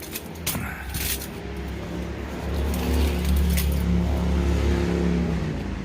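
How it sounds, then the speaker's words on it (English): Vehicle with a loud exhaust running, a low rumbling drone that swells louder partway through and holds steady, with faint clicks and creaks early on. "Because we got a loud exhaust, we can't do that quietly."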